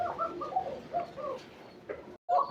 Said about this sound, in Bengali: আপনাদেরকে কোকা কবুতর দেখাবো